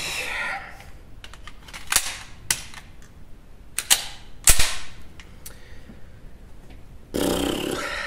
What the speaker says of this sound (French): c'est parti pour les 5 munitions d'essai.